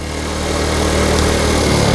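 A Honda Cub C90 motorcycle engine runs steadily at full throttle while riding at about 50 mph, a loud continuous mid-pitched drone with a low hum, constant and close throughout, no talking.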